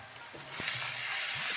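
Chicken frying in a pan on high heat gives a steady, soft sizzle, with a couple of faint knocks from stirring, close by with no talk.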